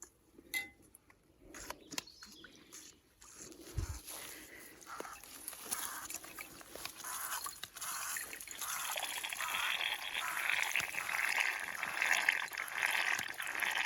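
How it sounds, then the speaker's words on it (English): Water trickling and dribbling through a portable charcoal filtration system outdoors, a faint, continuous wet stream that grows slowly steadier over several seconds with no voices. "The water is coming into here, and there's like a charcoal filtration system that is living in here"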